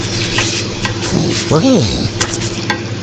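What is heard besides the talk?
stirring shrimp in a frying pan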